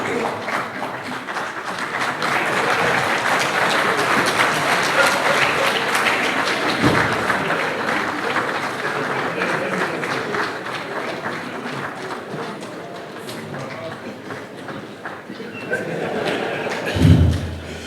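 Audience applause fills a hall at a 20th-anniversary gathering attended by Obasanjo, Atiku and Nana Akufo-Addo, a steady, loud wash of many hands lasting throughout, with a few thumps and a burst near the end.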